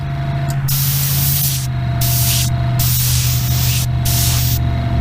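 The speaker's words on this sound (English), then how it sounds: "Test spray." A spray gun test-sprays metallic paint, hissing loudly in several bursts with short gaps between them, over a steady low compressor hum.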